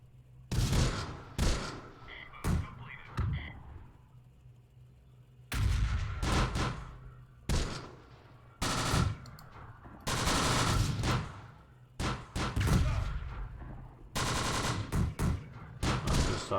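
Mortar rounds and rifle and machine-gun fire in the Close Combat: The Bloody First war game, with repeated loud, sharp bursts and booms separated by short pauses, no voices.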